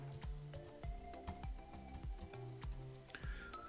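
Keystrokes on a computer keyboard, close and crisp, in a quick irregular run of taps and a few heavier key presses, alone without talk.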